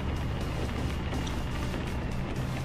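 Renault Trucks E-Tech T electric truck in the Euro Truck Simulator 2 driving game, a steady, even drive hum that stays level and fairly loud throughout, with no talk over it.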